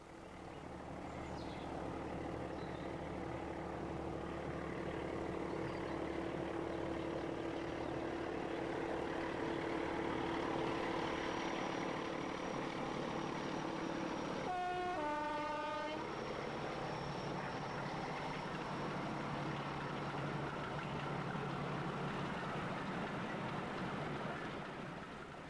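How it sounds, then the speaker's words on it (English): Class 14 diesel locomotive D9531 working the East Lancs line into Brooks Bottom Tunnel, a steady engine drone and rolling rumble with a horn blast partway through, continuous and fairly distant, no talk. "D9531 is seen at work on the East Lancs route, entering Brooks Bottom Tunnel."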